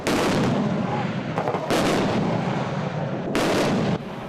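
Naval artillery and heavy guns firing during Taiwan's Han Kuang anti-landing military exercise on the Taichung–Chiayi–Tainan coast: a continuous roar of booming blasts, with sharp loud reports punctuating it, powerful and close.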